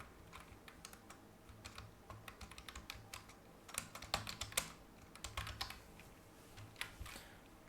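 Typing on a computer keyboard, close and quiet, an irregular patter of key clicks in short flurries with brief pauses.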